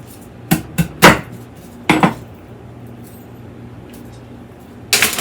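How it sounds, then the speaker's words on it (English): A knife chops spicy peppers on a cutting board in a home kitchen: a handful of sharp, close knocks in two quick clusters, then a long quiet gap before one more chop. "while we're chopping things up"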